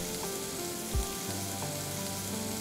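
Sliced onions and vegetables cook in a pan for borscht, a soft continuous sizzle with a low hum and one faint thump, no talking.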